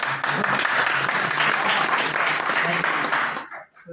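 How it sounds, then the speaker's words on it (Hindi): Audience applause at a Hindi talk on leadership qualities, a dense, loud burst of clapping that holds steady for about three seconds before cutting off abruptly. "ताली मारेंगे तो पता चल जाएगा।"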